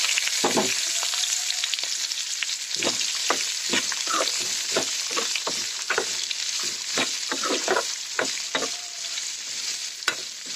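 Green chilies, onion, carrot and curry leaves fry in a pan for oats masala, a steady sizzle broken by frequent sharp scrapes and clinks of a spatula stirring close by, with no talking.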